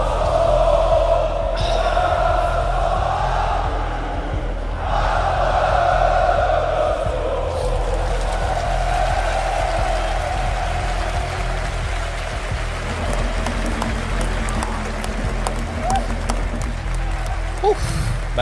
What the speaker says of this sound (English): what a crowd to have